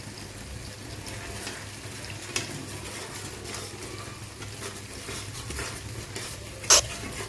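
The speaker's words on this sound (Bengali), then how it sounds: "ভালো করে মশলাটাকে নেড়ে চেড়ে নিলাম।" Spice paste sizzles steadily while frying in a pan on a Bengali stovetop, with soft repeated scrapes of stirring and a sharp clink near the end, fairly quiet and alone.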